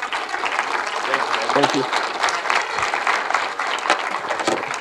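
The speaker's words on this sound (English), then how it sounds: "Give Gil a round of applause, please." Applause from a conference audience in Tokyo fills the room, a dense steady clatter of many hands, with a brief spoken thanks over it.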